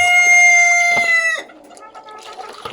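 Backyard hens calling: a loud, sustained, tonal cluck-call rings out close by for over a second, then gives way to quieter, scattered clucking.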